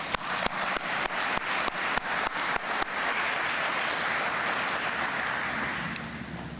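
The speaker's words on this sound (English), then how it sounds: "Can we get a round of applause for them, please?" Applause for pastors at a police department awards ceremony begins with a few loud, spaced claps, then swells into a full, dense round of clapping that slowly fades.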